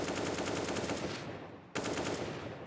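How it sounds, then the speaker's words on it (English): Rapid machine-gun fire in a CS:GO match rattles loudly and continuously, breaking off briefly before a fresh burst starts again. "MBK's bullets whizzing through the smoke"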